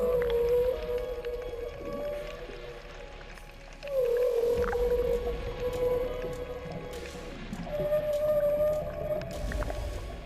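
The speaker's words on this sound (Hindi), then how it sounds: "ये हम्पबैक व्हेल थी जो अपने बच्चे के साथ समुद्र के चक्कर लगा रही थी" Humpback whale calls, from a mother swimming with her calf, drift through the sea: long tonal moans and rising cries, several in sequence, over a low rumbling underwater background.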